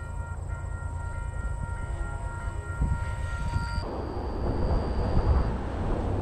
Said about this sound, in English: We got a train coming through here.